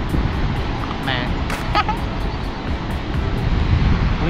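Palouse Falls in Washington rushes in a constant, loud roar of churning water, with wind noise mixed in, heard from a viewpoint near the falls.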